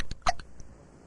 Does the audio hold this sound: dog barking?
no